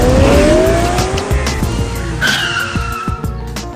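Car taking off fast with a loud tire squeal, a rising screech over rumbling engine noise, close and intense, followed by scattered thumps and skids with no talk.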